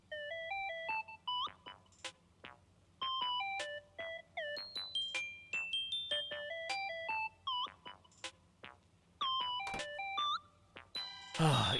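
Song from the video game Animal Crossing: New Horizons, a bright plucked melody of short rising and falling notes playing steadily and moderately loud.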